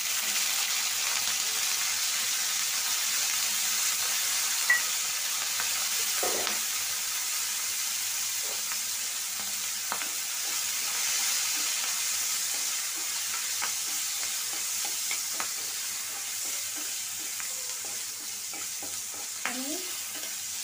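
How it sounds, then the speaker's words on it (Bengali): Green chillies fry in a hot kadai with a steady, close sizzle, punctuated by occasional scrapes and stirring clinks throughout. "সেজন্য কাঁচামরিচ ভাজা নিতেছি"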